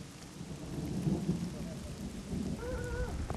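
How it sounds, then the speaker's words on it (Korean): A sudden rain shower falls in Ghana, a steady broadband hiss of rainfall with low rumbling thunder, and faint voices in the background toward the end. "갑자기 하늘이 변덕을 부리면서 비를 뿌립니다."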